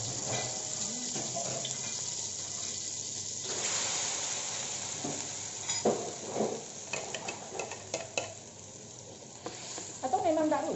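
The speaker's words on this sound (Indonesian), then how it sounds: "kita lanjut menumis bumbu yang tadi" Loud hiss of spice paste stir-frying in a little oil in a hot pan, with a spatula scraping and stirring intermittently; no talking.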